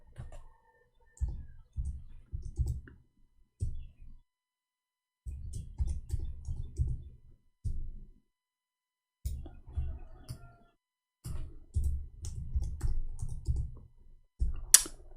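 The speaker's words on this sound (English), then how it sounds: "I hate my keyboard. There's something wrong with it." Typing on a faulty computer keyboard, with bursts of close clicking keystrokes in uneven clusters separated by short pauses, a faint high chirp now and then.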